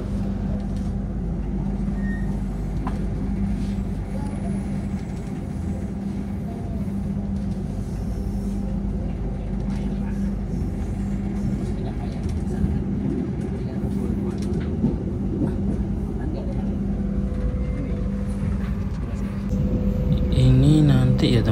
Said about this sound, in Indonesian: diberangkatkan dari stasiun Jombang kereta api Jayakarta